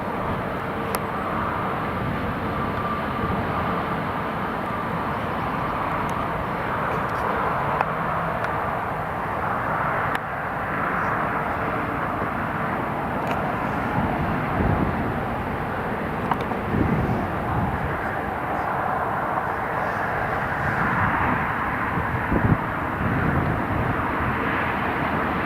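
Italian Air Force C-27J landing at Newcastle International Airport, a continuous low engine and propeller rumble with broad wind-like noise, steady and moderately distant throughout, with no talking.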